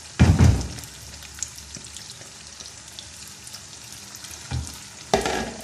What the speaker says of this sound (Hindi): अब मैं ये सारा जो चिकन का मैंने मैरिनेट करके रखा था, ये सारा प्याज में डाल देंगे